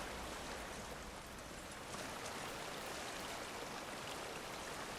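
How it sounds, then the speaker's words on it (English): Rushing water from a waterfall in the game God of War fills the scene as a faint, steady broadband wash, even and unbroken throughout with no voices. "Just behind the waterfall."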